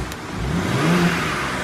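A 2023 BMW M3 engine revs briefly with a subdued exhaust note, a steady mid-pitched rising whir that stays close and fairly quiet, with no voices over it.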